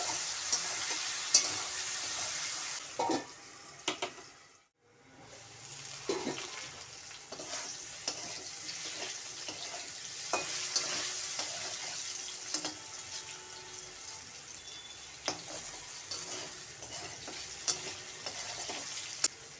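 Potatoes fried with turmeric and salt sizzle softly in a pan, uncovered and stirred, with a clatter of the lid and repeated scraping and tapping of the spatula over the quiet hiss.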